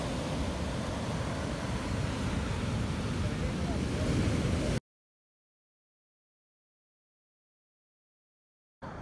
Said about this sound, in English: today, huge waves on White Sands.